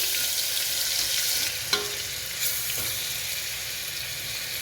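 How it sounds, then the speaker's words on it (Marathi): Ginger garlic paste frying in a pan for chole, a steady close hiss and sizzle throughout with a couple of brief clicks of stirring, no voices. "आलं लसूण पेस्ट थोडीशी लालसर करून घ्यायची"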